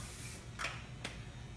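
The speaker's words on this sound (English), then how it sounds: "take a little cooking spray" Cooking spray is sprayed onto a pan in two short hissing bursts, a longer one followed by a brief second spritz, over a quiet background hum.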